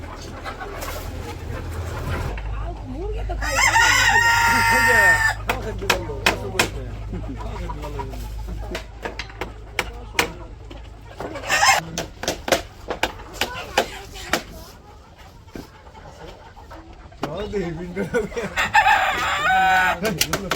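Chickens at a village poultry farm in Bangladesh crow loudly in two long bursts and cluck in between, close to the listener. Low farm rumble and scattered sharp knocks run underneath.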